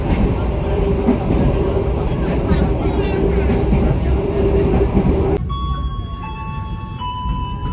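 An economy-class passenger train on an Indonesian line runs along the rails with a loud, steady rumble and rolling clatter, then the noise drops abruptly as a chime sounds, signalling an onboard announcement.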